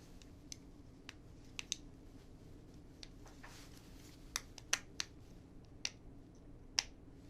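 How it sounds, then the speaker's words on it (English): Screws being fitted into the two plastic locators of a Z-Link respirator air distribution vent: sparse, sharp little clicks and ticks scattered over a quiet background, some closer together in short pairs. "we're going to first install the screws into the two locators"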